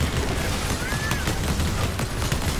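Sniper rifle fire in Fortnite, a few sharp cracks and booms over a constant wash of loud game noise.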